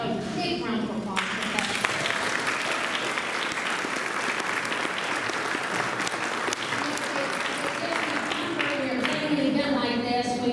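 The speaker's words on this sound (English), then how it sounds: "let's give a big round of applause" Sustained audience applause at an event, a dense, steady wash of many hands clapping that holds for about ten seconds before fading as a voice begins.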